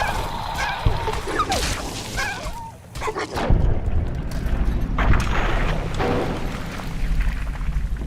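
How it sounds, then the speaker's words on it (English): Explosion outside in Fallout 3 or New Vegas, a sudden low boom about midway followed by rumbling debris and crackle, amid game ambience with brief chirps before it. "An explosion outside."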